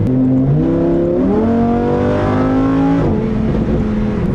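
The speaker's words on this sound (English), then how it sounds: "This car is pretty loud." A Lamborghini Huracán engine roars loudly from close by, its revs climbing in stepped surges through gear changes, with a continuous harsh, rough tone and no talking.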